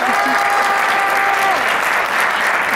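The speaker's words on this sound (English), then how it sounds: "Give this guy a big round of applause!" A crowd at a Three Kings Day ceremony at El Museo del Barrio applauds an award recipient, with loud, steady, sustained clapping and cheering voices mixed into the roar throughout.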